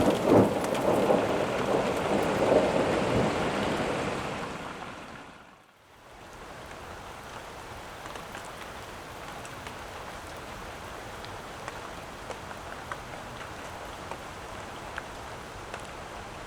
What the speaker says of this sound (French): Dehors, c'est la tempête.